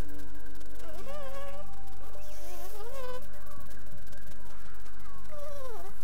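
A bee in the Grounded survival game buzzes with a wavering, rising and falling drone, loud and close, over a constant low game hum.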